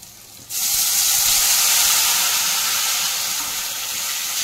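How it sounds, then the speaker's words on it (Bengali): Water is poured into fried spice paste in hot oil for a plantain kofta curry, bursting into a loud, steady sizzle after half a second and hissing on with little fading. "এখন জল দিব।"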